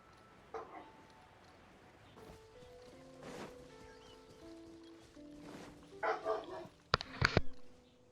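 A dog in a video game barks in short scattered bursts over a quiet background, some yaps sharp and close, others softer, with small knocks and clatters between them.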